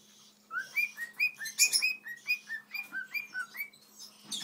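A pet cockatiel whistles a repeated, lilting tune from inside a crinkly Cheetos snack bag, with a dozen or so clear, closely spaced rising notes and a faint steady indoor hum underneath.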